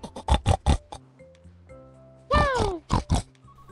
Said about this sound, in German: Genau, das war das Schwein.